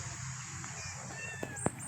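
A pet cat at an elderly man's home gives one or two short, close meows over a steady background hum.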